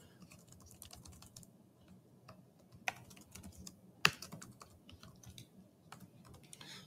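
Fingers type on a computer keyboard in quick, irregular bursts of soft clicks, with a couple of sharper, louder keystrokes standing out against a quiet room.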